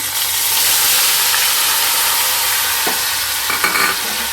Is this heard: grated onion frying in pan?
yes